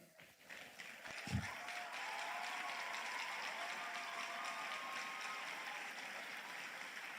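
Quiet, distant-sounding applause from an audience at a university lecture, a steady wash of clapping that builds after a brief thump and holds evenly, faint overall.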